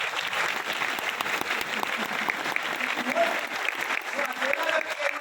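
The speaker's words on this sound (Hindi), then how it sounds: "आप हमारे लिए ताली मत बजाओ, उस व्यक्ति के लिए बजाओ जो आपको यहाँ पर लेकर के आ रखा है" Steady, dense applause from a seminar audience at a Vestige direct selling business event, loud and continuous throughout, with scattered voices and a presenter's speech faintly mixed in.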